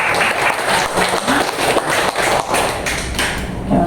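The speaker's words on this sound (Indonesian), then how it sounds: "Jadi kita berikan aplaus." Audience applause at a school dissemination event, dense steady clapping filling the space at even loudness throughout, with no voices standing out.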